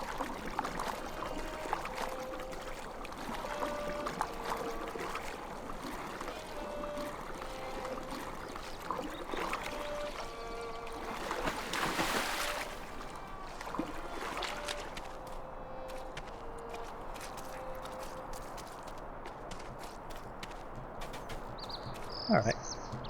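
A character swims through water in the video game LOTRO, with soft splashing strokes and trickling water over a bed of ambient sound and brief tonal cues, while a person talks over it.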